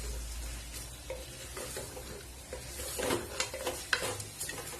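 Chicken coated in turmeric, chilli and coriander powder sautés in oil for a coconut milk chicken dish, giving a close, crackling sizzle. Scraping stirs pick up toward the end.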